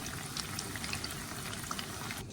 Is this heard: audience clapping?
no